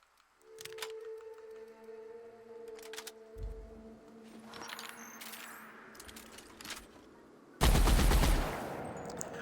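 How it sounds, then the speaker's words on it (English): Rapid bursts of plasma fire from the Raptidont heavy weapon in The Outer Worlds, with clicks and impacts followed by a loud, sustained blast near the end. "Oh, it's like a heavy machine gun."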